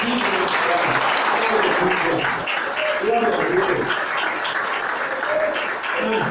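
A church congregation claps together during a worship service, a full, continuous round of applause with a voice calling out over the clapping.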